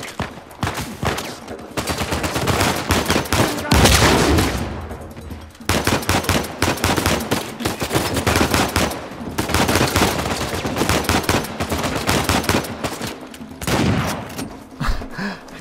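AK rifle gunfire in the video game Uncharted 4, loud rapid bursts of automatic fire in repeated volleys separated by brief pauses.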